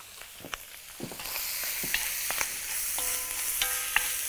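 Stir-frying in a wok, stirred with a spoon: steady close sizzle with intermittent metallic scrapes and clinks of the spoon against the pan, fairly loud, no talk.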